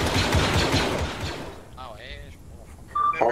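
Gunfire in a video game battle, dense rattling automatic bursts up close for the first second and a half, then fading under brief synthetic game effects and a sharp later burst.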